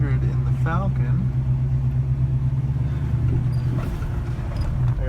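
Engine rumble inside a Chevrolet C10 truck while driving, a steady low drone heard from the cab, with a person talking over it.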